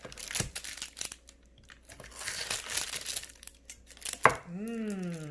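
A knife slices through a rolled date, nut and graham cracker treat on paper, giving crunchy, crinkly cuts in uneven bursts up close, with a brief muffled voice at the end.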